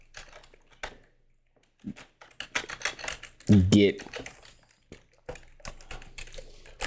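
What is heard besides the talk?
typing on a computer keyboard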